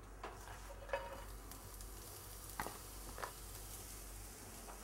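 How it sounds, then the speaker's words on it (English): Chopped cabbage sautéing in oil in a pan over the heat, a quiet steady sizzle with a few soft stirring taps. "I'm going to dump in the cabbage."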